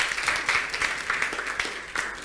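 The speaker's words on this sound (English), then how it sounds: "A round of applause for Joy." Audience applause at a live event, a steady patter of many hands clapping at moderate distance, fairly quiet and continuous for a couple of seconds.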